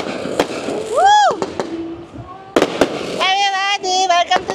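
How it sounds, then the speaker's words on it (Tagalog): Fireworks at night in Chiang Mai, Thailand: sharp close bangs and crackles, with rising whistles between them and a whooping, cheering crowd. "giving you fireworks"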